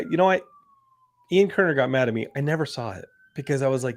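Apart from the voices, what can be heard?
siren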